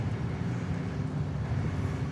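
Southwest Airlines Boeing 737-700 departing Dallas Love Field on a flight to Lubbock, a steady low jet engine roar held at constant loudness throughout, with no voices.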